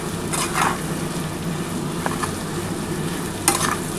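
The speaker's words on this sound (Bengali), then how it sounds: "দেখো আমার মোটামুটি ভাজা হয়ে গেছে" Mutton keema fritters, made with potato, fry in a pan with a dense, even sizzle, broken by a few soft stirring scrapes near the start and end, close and steady, no one talking.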